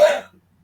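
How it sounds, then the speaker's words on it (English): One short, sharp cough from a man sitting indoors, close and fairly loud, fading quickly into near silence. "So you're coughing."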